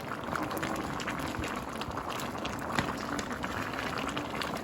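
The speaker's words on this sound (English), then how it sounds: "I'll stir so you see what is happening." Jamaican stew peas bubbling and being stirred in a pot, a steady close simmering and gurgling texture with soft scraping, continuous throughout.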